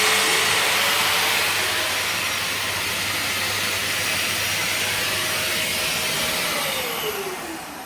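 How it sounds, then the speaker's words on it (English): A vacuum cleaner attached to a power tool runs steadily during oak floor installation, with a loud, broad hiss and a whining motor tone that dips near the end. "it starts the vacuum cleaner, so it's less dust"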